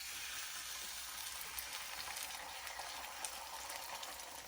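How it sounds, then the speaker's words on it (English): Eggs sizzle and crackle steadily in a skillet, a soft, even frying hiss with small pops throughout and no voices. "So here to my skillet, I'm going to add my eggs."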